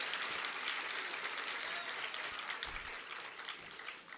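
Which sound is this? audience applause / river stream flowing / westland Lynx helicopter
audience applause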